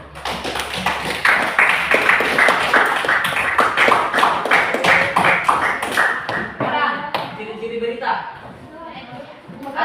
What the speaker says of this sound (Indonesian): Nah, oke, tepuk tangan.